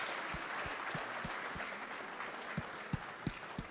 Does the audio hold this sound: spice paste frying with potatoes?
no